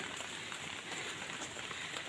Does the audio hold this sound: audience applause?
no